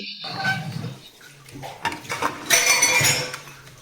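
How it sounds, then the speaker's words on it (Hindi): Metal pressure cooker lid lifted off after cooking saag, with close clinks and clanks of metal on metal and some scraping, loud and irregular. "अब हम इसका ढक्कन हटाकर देखेंगे।"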